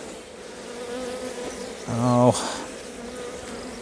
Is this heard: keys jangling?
no